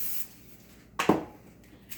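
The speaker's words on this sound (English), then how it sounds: "I'm going to take my muffin pan and I'm going to lightly spray it" A single short burst of cooking spray hissing onto a muffin pan, close and fairly quiet, in an otherwise calm kitchen.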